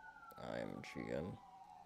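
Emergency sirens wail outside, two rising and falling sweeps heard indoors at moderate level with faint background noise.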